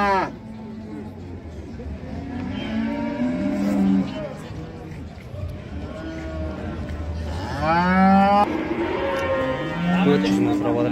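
A cow with her calf moos repeatedly, long bellowing calls rising and falling, fairly close, at a livestock sale with people talking in the background.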